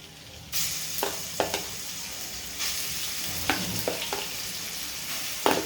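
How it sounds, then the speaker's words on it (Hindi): Ginger, garlic and chili paste hits hot oil with cumin seeds, bursting into a loud steady sizzle with occasional spatula scrapes and stirring clatter, close and alone without talk. "अदरक लहसुन को अच्छे से भून कर लेंगे 1 मिनट तक।"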